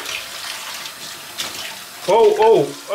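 Tap water runs steadily into a sink while dishes are washed, a close continuous splashing hiss that grows louder toward the end as the stream hits the dishes, with a voice speaking briefly over it.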